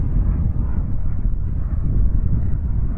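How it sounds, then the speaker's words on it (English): An Aviation Design Diamond model jet engine at about half throttle gives a steady, loud, low roar close by, with wind buffeting across the microphone throughout. "We're at full throttle right now. I'm bringing the throttle back down to about half."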